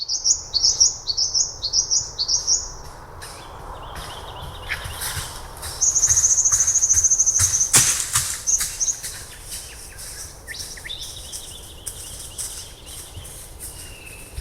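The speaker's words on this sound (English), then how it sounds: "listen for the small bird which changes its call while the subject runs past" A small bird gives repeated high, thin chirps outdoors in a field at night, with a longer sustained call midway, quiet ambient noise and a few soft rustles and thumps.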